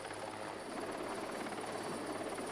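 A helicopter hovers over a ship at sea, its rotor giving a steady, even thrum and a broad whine that holds without break.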